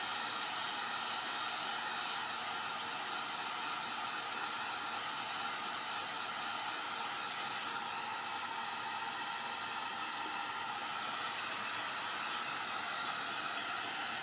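A hair dryer blows on fresh paint on a spinner gourd, a steady close whooshing hum that holds unchanged with no pauses or voices.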